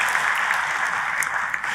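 Congregation applause during a church service, a dense, steady wash of many hands clapping together for the whole short stretch at fairly strong level.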